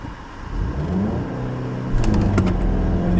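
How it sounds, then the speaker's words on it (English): A 2015 Volkswagen Golf GTI two-door accelerates hard with a rising, close engine roar, briefly spinning its wheels as the pitch climbs and the car pulls away. "think got a little wheel spin"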